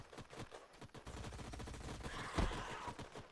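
Gunfire from units in the strategy video game Age of Wonders: Planetfall, a dense rattling burst of rapid shots that swells toward the end with a heavier impact, steady and mid-level with no voice over it.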